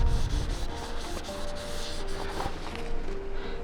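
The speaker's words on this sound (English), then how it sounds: "Essentially just wiping it off." A cloth rubs excess coating off an off-road wheel in quick, close, scratchy strokes, a continuous rough swishing with uneven rhythm.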